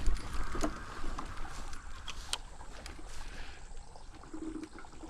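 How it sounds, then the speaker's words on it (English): Water of a small creek crossing on an e-bike route trickles and splashes nearby, with irregular gurgles and brief louder spatters over a quiet outdoor background. "oh, there's a little creek crossing."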